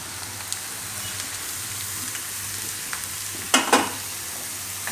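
Paneer sizzles steadily in a pan over low heat for dahi paneer bhurji, a close, even hiss broken by two brief scraping stirs near the end.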